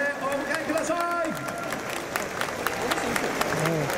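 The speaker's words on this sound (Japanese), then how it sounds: "皆さんどうぞ温かい拍手でお迎えください" Scattered clapping from a baseball stadium crowd in Urasoe rises for a ceremonial first pitch under a loudspeaker voice, with people talking over the applause throughout.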